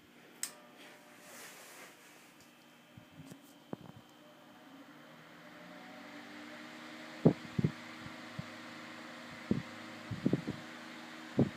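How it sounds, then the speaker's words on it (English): A 10-inch Dominion desk fan, model 2011-A, with metal blades runs with a soft, steady whir, and a few sharp clicks and knocks are heard close by. "it's got the usual metal bladed kind of whirring to it, but it's not. It's actually pretty quiet for a metal bladed fan"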